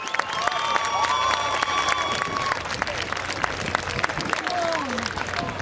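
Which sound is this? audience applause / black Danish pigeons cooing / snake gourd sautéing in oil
audience applause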